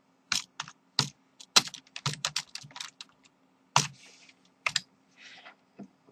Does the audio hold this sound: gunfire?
no